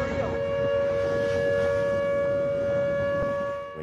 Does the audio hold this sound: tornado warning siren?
yes